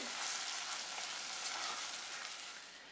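Brown sugar and ketchup are stirred into a simmering strawberry barbecue sauce, giving a continuous close bubbling sizzle that eases slightly toward the end, with no talking.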